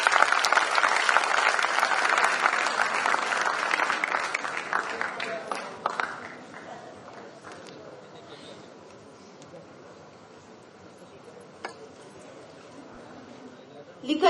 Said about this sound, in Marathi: तरुण पिढीच्या सर्व वक्त्यांचे आपण जोरदार टाळ्या वाजवून स्वागत करूया